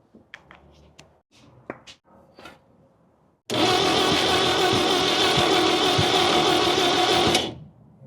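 A 1969 Toyota engine, running on three cylinders after 33 years parked, cranks in one long, loud, steady whirring burst of about four seconds after a few scattered clicks and knocks, then stops without catching.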